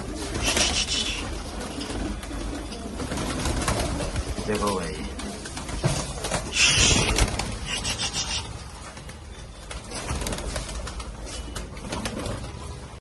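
Soft, low cooing and rustling wings from several Rajasthani Chapdar and Punjabi pigeons nearby, under someone talking over them.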